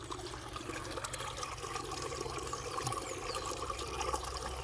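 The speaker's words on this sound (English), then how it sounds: "the water is just bubbling from the rock" Water bubbling and trickling out of a rock at the start of a small stream in foggy woods, a steady close gurgle running without pause under a low outdoor rumble.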